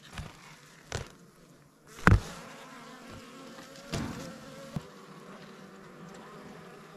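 Honey bees buzzing around an open Langstroth hive, a soft steady drone punctuated by louder passes of single bees flying close by, with faint knocks and no talking.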